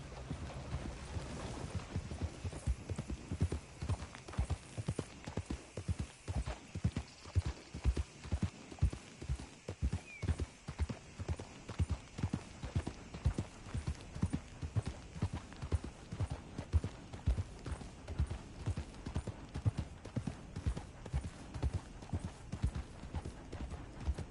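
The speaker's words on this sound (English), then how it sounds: "That's one nice-looking horse you got there." Steady clip-clop of horse hooves at a walking pace in a PS4 video game, regular and close, continuing throughout with a faint background hum.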